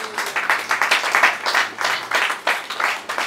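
A church congregation claps together in acclaim of God, loud, close, rhythmic bursts of many hands pulsing steadily.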